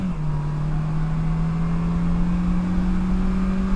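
A Polaris Slingshot three-wheeler cruises on a highway at about 80 miles an hour, its engine a steady, close drone that slowly climbs in pitch under a constant wash of wind and road noise.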